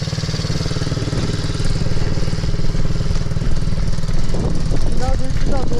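Small MRF 80cc motorcycle engine buzzing steadily up close as the throttle is worked, its pulsing drone holding through the clip while a voice talks over it near the end.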